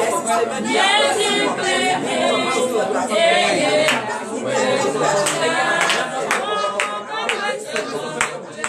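A church congregation at a morning prayer service in Benin claps and acclaims together, loud, dense clapping mixed with shouts and voices rising throughout, with a sustained roar of crowd sound.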